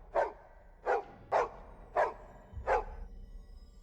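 A panicked dog gives five sharp, evenly spaced barks close and clear, with a brief low thump near the last one and then silence.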